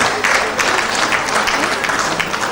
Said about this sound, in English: Can we please give a round of applause to Dr. Dunkley Bennett?